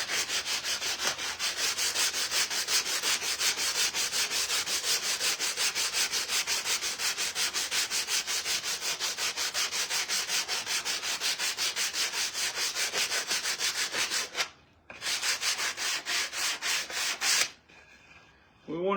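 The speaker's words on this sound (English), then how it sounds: "We want to do a little bit of our sanding." Wood is sanded with fast, continuous back-and-forth rasping strokes, loud and close, broken by one brief pause and ending abruptly near the finish.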